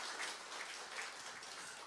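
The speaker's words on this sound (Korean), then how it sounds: "우리 칸타타 하신 분들한테 박수 한번 더 칠까요?" Congregation in a church clapping together after a cantata performance, a steady dense wash of hands with no break, fairly faint and held at one level throughout.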